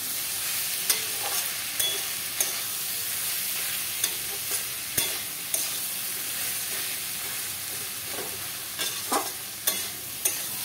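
Spices and banana flower stir-fried in a pan for a prawn mocha dish, with a steady sizzle under repeated scrapes and clacks of a metal spatula, close and continuous.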